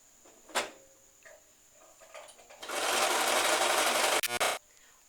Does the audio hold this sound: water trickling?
no